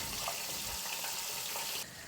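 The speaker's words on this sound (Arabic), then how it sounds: "ودوكا راح نحط في 2 كيسان ونص تاع الماء سخون." Hot water is poured into couscous, a brief, close, steady hissing splash that lasts about two seconds before softening, with no talking.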